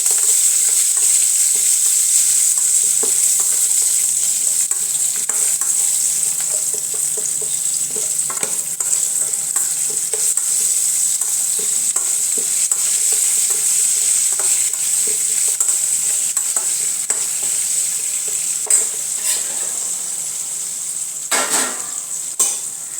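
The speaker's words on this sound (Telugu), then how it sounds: "ఇప్పుడు కొద్దిగా కరివేపాకు వేసుకుందాం. కరివేపాకు వేసుకొని కలబెట్టుకుందాం." Curry leaves crackling in a hot oil tempering for lemon rice, a bright steady sizzle with frequent scraping and clinks of a spoon stirring the pan.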